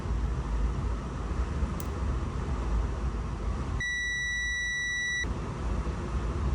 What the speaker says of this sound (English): I got it on continuity mode, so when we touch the probes, let's check for any shorts.